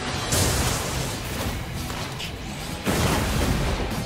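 Missile explosions slam into a mech in the Override Mech City Brawl video game, a dense barrage of booming blasts and crashing impacts that continues for several seconds, with a fresh loud hit near the end.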